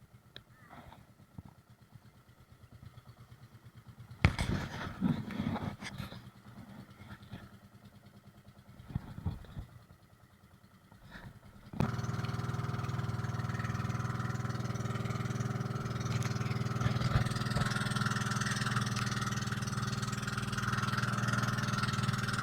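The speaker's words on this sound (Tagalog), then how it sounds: "Yan, umaandar na yung makina." A fishing boat's engine starts up and settles into a loud, steady drone heading out to sea, after a quieter stretch of knocks and handling sounds.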